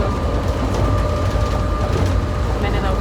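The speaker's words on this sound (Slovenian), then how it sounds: "Ale vlak je prav ful dober." A passenger train ride in London, with a loud steady rumble of the carriage and track noise filling the cabin throughout, no clear pauses.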